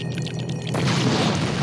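An explosion in LEGO Star Wars: The Complete Saga bursts out after a brief lead-in of game sounds, and a loud, rumbling boom then fills the rest of the short moment.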